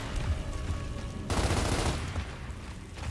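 Gears of War: Ultimate Edition gunfire, a rumbling game soundscape that suddenly breaks into a dense burst of rapid shots, then fades out over a few seconds.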